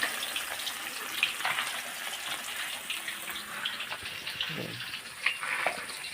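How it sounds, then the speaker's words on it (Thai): Salted fish frying over a red-hot charcoal stove at home gives a steady crackling sizzle with faint watery hiss, moderately close and fairly quiet throughout, with a few brief louder pops. "นี่ครับเป็นบ้านทอดปลาเค็มครับผม"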